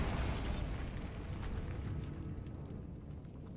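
The Bombarda spell in Hogwarts Legacy detonates as a loud, deep blast that rumbles with broad roaring energy, then fades gradually over a few seconds, heard alone without speech.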